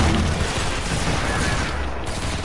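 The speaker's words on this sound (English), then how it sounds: "I'm gonna shoot my rocket launcher out" A rocket launcher fires in a shooter video game, with a loud, dense burst of blasts and rumbling that stays heavy throughout the short moment.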